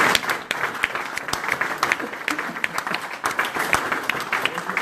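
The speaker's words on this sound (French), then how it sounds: "Acclamons pour notre Seigneur." A church congregation breaks into loud, sustained applause, dense clapping filling the room from start to finish, with some voices mixed in among the crowd.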